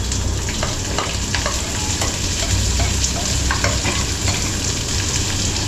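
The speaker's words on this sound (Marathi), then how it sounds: "आपण कांदा, मिरची आणि कढीपत्ता ते आपण टाकून घेऊया." Onion, green chili and curry leaves hit hot oil in a home kitchen pan, giving a loud, constant sizzle and crackle with intermittent scraping stirs and occasional sharp pops.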